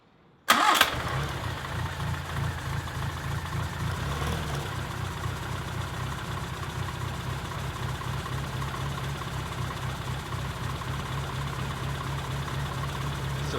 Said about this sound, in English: So I'm going to turn the car on, show you guys exactly what we're looking for as far as a baseline idle